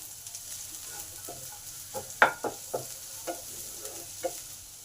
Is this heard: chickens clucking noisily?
no